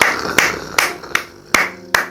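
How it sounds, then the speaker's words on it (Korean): Five sharp hand claps, evenly spaced about every 0.4 seconds, loud and close in a quiet indoor room, with no voices. "박수!"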